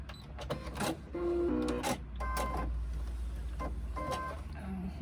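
Home sewing machine stitching fabric for a sling, an uneven run of quick mechanical stitching bursts with whirring motor and short pauses, close and moderately loud, with no talking.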